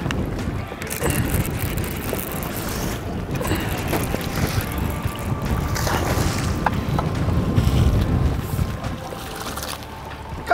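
Wind blows hard over an offshore bass fishing boat, a continuous loud rushing roar with buffeting gusts and a few faint knocks, no voices.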